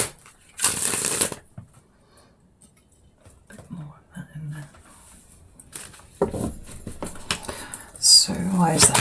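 A Rider-Waite tarot deck is shuffled by hand: a crisp, close riffle near the start, then a longer rustling, slapping stretch of cards at the end, with soft murmuring in between.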